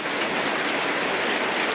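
Heavy rain falling during a thunderstorm, a dense, even hiss with no breaks, loud and close, without any voices.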